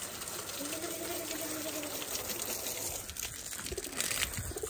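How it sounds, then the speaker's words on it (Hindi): Water being poured out for pigeons, a steady rushing gush that runs continuously at moderate level for several seconds, with a faint higher whistle-like tone drifting through the early part. "कबूतरों को भी पानी शानी डाल दें थोड़ा।"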